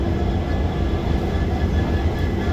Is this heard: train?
yes